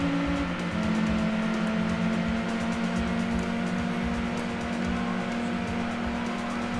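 Touring car engines racing in Gran Turismo 2, a steady loud droning roar of several cars at high revs with brief tire squeal, continuous throughout with no talking.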